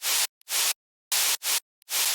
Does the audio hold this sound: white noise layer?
yes